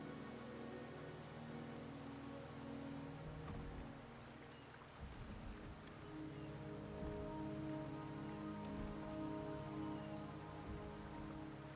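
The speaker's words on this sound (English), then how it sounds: "The rain is subsiding, and the sky will soon clear." Steady rain falls in the video game Wuthering Waves, a soft, continuous patter on surfaces under a low ambient drone, faint and unbroken throughout.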